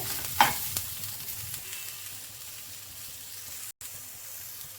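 Drumstick leaves frying in a pan for an Andhra-style grandmother's bajji recipe, a steady soft sizzle with light stirring scrapes near the start, continuous and fairly quiet with no talking.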